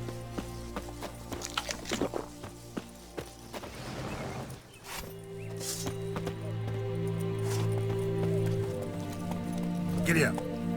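A horse in The Witcher 3 clip-clops and gallops along a path, its hoofbeats mixed with tonal background music and a few sharp cracks, the rhythm steady and moderately close.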